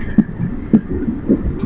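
Local train pulling into Mankar railway station at night, with soft rhythmic thumps of wheels over rail joints and a low rumble, fairly close and steady.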